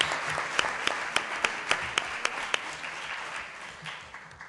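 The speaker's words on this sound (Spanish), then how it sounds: "Un aplauso." Applause from a seated audience at a conference presentation, a patter of many hands with several sharp, distinct claps standing out near the front, fading toward the end.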